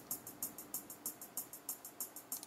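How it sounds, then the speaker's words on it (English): A closed hi-hat drum sample plays alone in a quick, even run of about fifteen short, crisp ticks, bright and dry, each cut off sharply. "a closed hi-hat sounds like this"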